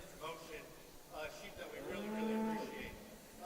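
Cattle at a crossbred market steer show moo in a drawn-out low call, with scattered talk and crowd noise around them in an indoor arena.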